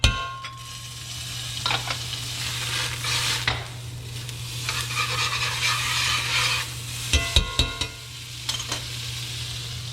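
Butter starts to sizzle in a hot, freshly polished pan for coq au vin, making a steady frying hiss with a few scrapes and clinks from utensils and no talking.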